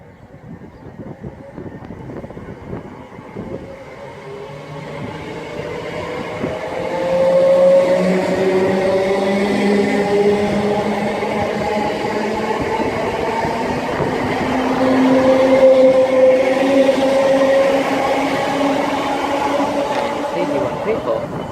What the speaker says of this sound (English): And now departing is 321355 and something else on the rear